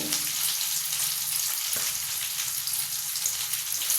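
Green chillies frying in hot oil for a Davanagere-style vaggarane mandakki, a steady bright sizzle throughout with a brief crackle partway through, close and without talk.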